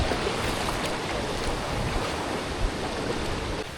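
Waterfall at Madakaripura in Indonesia pours down steadily, a dense, continuous roar of rushing water filling the scene at a constant loudness with no talking.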